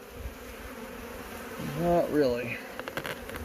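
Honeybees buzzing from an opened hive during an inspection, a soft continuous hum close by, briefly under a few spoken words from a man.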